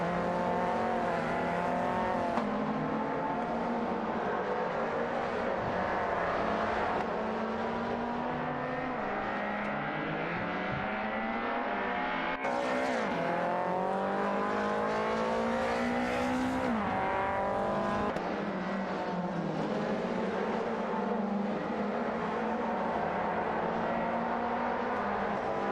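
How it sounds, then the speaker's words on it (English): Race cars roar continuously in a simulated AI-driven race, engines rising and falling in pitch as they accelerate and pass, loud and sustained throughout with no talk. "Racing car dashing away"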